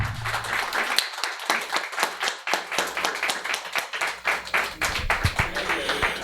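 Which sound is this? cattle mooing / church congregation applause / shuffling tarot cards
church congregation applause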